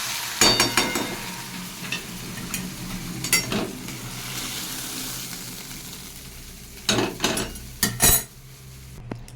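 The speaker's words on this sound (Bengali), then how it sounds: "এটাকে বেশ ভালো করে নাড়াচাড়া দিয়ে দিচ্ছি" Food sizzles steadily in an oiled kadai while a spatula stirs it, scraping and clattering against the metal in bursts, with sharper knocks near the end; no voices.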